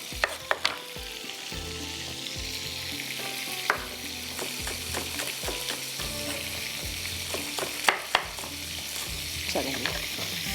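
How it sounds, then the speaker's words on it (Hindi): Oil sizzles and crackles steadily in a hot pan as a tempering (tarka) is cooked for dal, with sharp pops and scraping stirs scattered throughout. "तड़का तो मैं डिश में ही लगाऊंगी"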